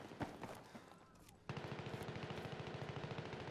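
An automatic shotgun fires in a video game: a few scattered lighter sounds, then a sudden, loud, continuous burst of rapid, evenly spaced shots that runs to the end.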